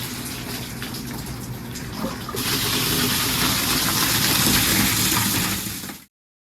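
Water gushes steadily into a fish transport trailer tank, a broad continuous rush that grows louder and fuller after a couple of seconds, then stops abruptly.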